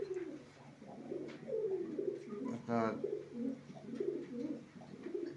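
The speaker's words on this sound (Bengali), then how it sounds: "এটা নর কবুতর, এটা মাদি লাগবে।" Low, rounded cooing from a male pigeon repeats in soft pulses, with a brief chirpy bird call partway through and a voice speaking over it.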